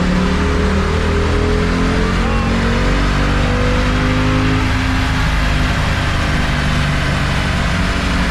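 A Jeep SRT-8 V8 roars through a full-throttle dyno pull. The loud, continuous engine note climbs steadily in pitch throughout.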